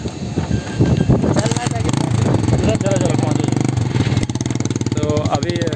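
A motorcycle carrying a passenger with an injured foot pulls away, its engine droning and revving steadily under loud, overlapping talk from people nearby.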